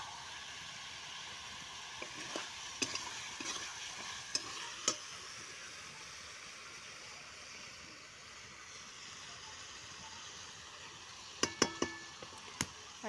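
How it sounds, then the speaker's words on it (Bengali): Chicken being stir-fried in a pan for a spiced Bengali kosha curry, a soft steady sizzle with intermittent clinks and scrapes of a spoon against the pan, fairly quiet and without talk. "আগে মাংসটা কষে নিই, তারপরে দেবো।"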